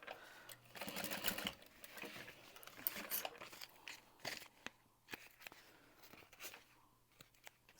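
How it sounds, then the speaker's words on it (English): A sewing machine backstitches through the bulky seam of a quilted bag, giving short bursts of fast, quiet stitching separated by pauses and small clicks and rustles, close and soft, with no voices. "backstitch, sew through the bulk, and we're just splitting the seam at the side."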